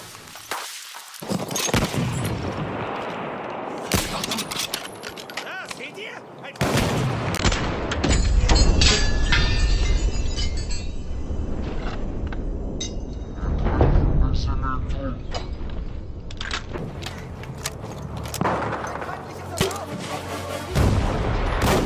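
Battlefield 1 artillery fire lands in a heavy, chaotic barrage of booms and gunshots, with sharp loud blasts and rumbling impacts across the stretch and voices talking underneath.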